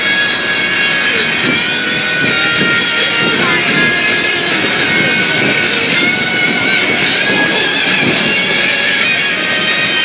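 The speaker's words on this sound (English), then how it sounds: "As Art brings it back around here, keep in mind the L-39, a training jet built by the Czechs to meet the requirements for the trainers during the 1960s" An L-39 Albatros, a Czech-built training jet, roars steadily overhead during an air show display, loud and continuous for the whole stretch with no clear breaks.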